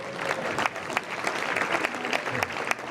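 Guests at a unity banquet and scholarship benefit applaud the scholarship recipients, a steady round of crowd clapping with a few louder individual claps standing out.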